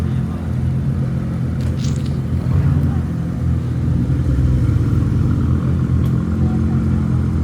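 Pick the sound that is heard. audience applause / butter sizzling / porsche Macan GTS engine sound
porsche Macan GTS engine sound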